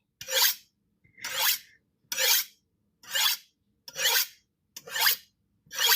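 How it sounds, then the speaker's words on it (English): A kitchen knife is drawn against a honing edge in six evenly spaced rasping strokes, close and clear, with silence between each pass and no talk. "So that's why I'm always complaining that my knife is dull, is because I'm just running it against a honing edge."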